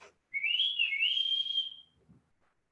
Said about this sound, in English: They respond to this whistle.